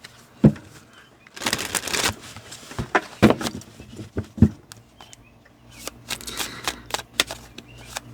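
Tarot cards being shuffled and drawn, with bursts of riffling and soft card snaps and taps spread through the clip, close and fairly quiet, with no talking.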